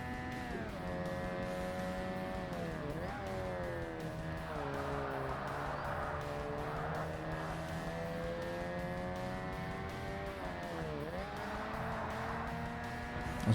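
Race cars in the video game Forza Motorsport, steady layered engine tones rising and falling through gear changes and corners, with occasional tyre noise, continuous and even in level.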